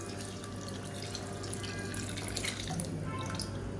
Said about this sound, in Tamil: இப்போ குழம்புக்கு தேவையான தண்ணி சேர்த்துக்கலாம்